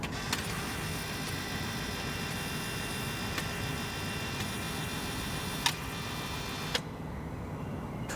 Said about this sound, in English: there's a bleed procedure, and it bleeds all the valves in the gearbox